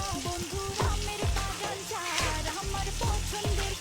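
Onions sizzling in a hot pan with jute leaves and shrimp, a steady crackling fry that runs throughout with a tonal, music-like layer on top.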